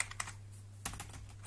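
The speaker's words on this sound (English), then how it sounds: "these keyboards are T6 super competitive keyboards" Typing on a T6 gaming keyboard, a handful of sharp, scattered key clicks with irregular spacing, close and clear over a low steady hum, no talk.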